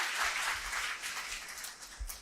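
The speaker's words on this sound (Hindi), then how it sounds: "जितने लोगों ने तालियां बजाई" A gathering listening to a political speech breaks into applause, a soft, hissing patter of many hands heard at a distance and fairly faint, lasting only a couple of seconds.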